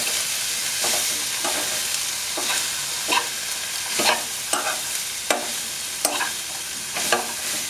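Raw banana thoran stirred in a hot pan with a spoon, a run of repeated close scraping strokes roughly every second over a constant frying sizzle, no voices.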